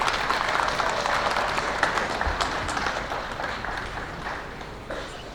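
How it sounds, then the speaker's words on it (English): A hall full of guests claps for His Excellency at the official opening of an innovation hub during University of Zimbabwe Research Week, dense and steady applause fading slightly over several seconds. "Big round of applause for His Excellency."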